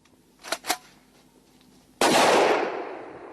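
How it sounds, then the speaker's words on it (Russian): Two quick sharp cracks, then a single loud warning gunshot fired into the air booms out in the woods, its echo rolling away slowly across open space. "Предупредительный выстрел в воздух"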